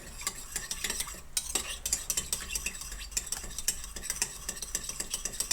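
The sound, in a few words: stirring rice with white pepper in a pan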